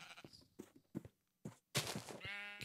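Sheep bleat in Minecraft, a few short bleats breaking the quiet before a longer wavering bleat with a buzzy tone, calls spaced unevenly and fairly close.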